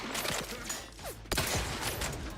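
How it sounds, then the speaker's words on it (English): Gunfire in The Outer Worlds 2, shots fired through a metal grate: a few sharp bursts, one strong crack near the middle, over a steady game ambience. "let's find out if we can shoot through the grate first"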